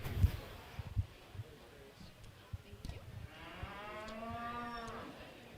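A cow lets out a long, deep moo in a show ring at a beef cattle show, rising then fading over about two seconds after scattered thumps and shuffling noises.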